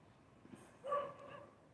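A single dog barks briefly in the distance at night, a faint yelp rising over quiet background hiss.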